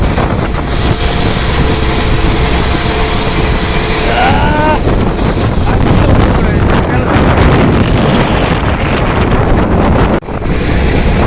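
Strong wind at sea roars and buffets the microphone continuously on a boat, a loud, rushing wash of noise with a brief dip near the end.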